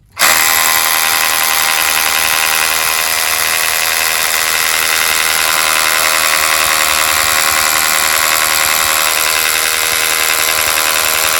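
Cordless drill running with an 8 mm bit, boring into a wall, a loud, steady high-pitched whine that starts abruptly and holds constant for the whole stretch with no voices.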